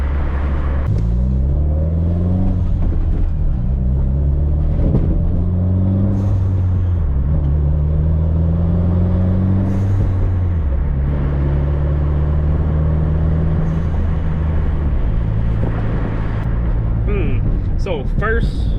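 A Mitsubishi Evo 8 with an ECU swap revs repeatedly while driving, its engine note rising and falling in several climbing sweeps over a deep cabin rumble, close and loud.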